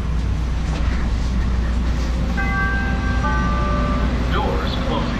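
Chicago metro train rumbling at the LaSalle and Van Buren station with a steady low drone, a few sustained tonal chimes, and voices murmuring in the background.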